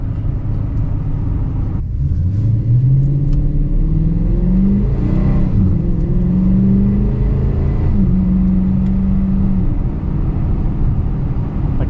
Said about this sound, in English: right now you hear more the sound of the wind or the sound of the tires rolling on the road more than the sound of the actual exhaust